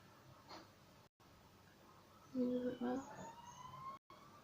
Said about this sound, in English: And a siren.